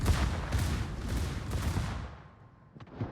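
Warship guns fire high-explosive shells in a World of Warships match, a dense, loud barrage of overlapping booms that rolls on for about two seconds, then fades into a quieter tail with one last faint report.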